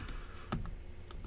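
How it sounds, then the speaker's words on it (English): Several quick keystrokes on a computer keyboard, close and fairly quiet: a few separate clicks spread over a second with a sharper tap in the middle, no voices. "I have to make sure I'm, like, spelling your name right when I'm typing this"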